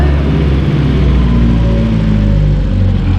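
A Rover 75 from a classic car collection idles and revs steadily, a loud, close, continuous low engine drone with a slight throb, no talk over it.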